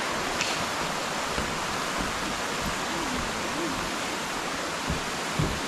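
Steady broadband rushing water fills the scene, a constant roar from nearby Daranak Falls in Tanay, Rizal, heard from a bridge, with no talking.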